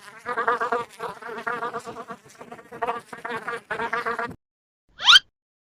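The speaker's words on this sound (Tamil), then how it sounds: "bee," A bee buzzes loudly and close in a steady, pulsing drone that breaks off briefly a few times over about four seconds, then stops, followed by one short sharp chirp-like sweep.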